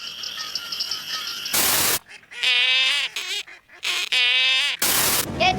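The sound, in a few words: frogs and toads calling: green tree frog, squirrel frog, leopard frog, southern toad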